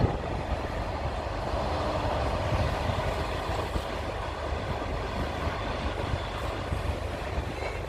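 A train rolls past near a road in India, between Bangalore and Hyderabad, making a loud, steady rumble with rattling wagons that stays even throughout, with no voices.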